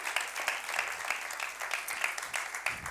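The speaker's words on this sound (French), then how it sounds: "Alors, on applaudit encore Paul Devant." At the close of a stage show in Abidjan, the audience applauds Paul Devant with a lively, rhythmic burst of many hands clapping, steady and fairly close throughout.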